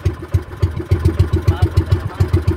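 A three-year-old fishing boat engine idles close by with a steady, regular chugging thump, each beat evenly spaced and low-pitched.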